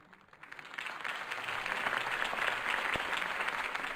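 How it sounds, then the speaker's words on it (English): Audience applause erupts after a Harvey Dent campaign speech in Gotham, rising from a quiet start into steady, dense clapping from a large crowd with a sharp clap standing out near the end. "If only Mr. Wayne, my campaign's largest backer, could have heard that applause"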